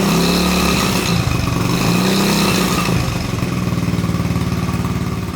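A Trail 70 motorcycle engine running on choke with a trashed carburetor, starving for gas and unable to reach full throttle, chugging loudly and close with a steady rapid putter that settles into an even idle.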